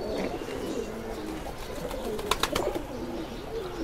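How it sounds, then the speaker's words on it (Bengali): Pigeons cooing at a pigeon farm: low, rolling coos repeat under a constant hiss of background noise, with a few sharp clicks midway. "ওই কবুতরটা দেখি ভাইয়া"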